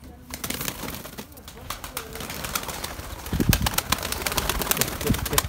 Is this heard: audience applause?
no